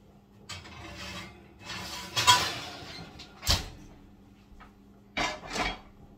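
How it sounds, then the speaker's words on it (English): Pans clatter and an oven rack or door bangs as a home oven is emptied for cleaning, several separate sharp knocks and scrapes spread out against quiet. "Let me clean out my oven."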